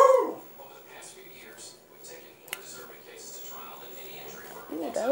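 Pet dog Lexi whimpers and gives a couple of soft yips near the start and end, fairly close, with a quiet stretch between and a person talking under it.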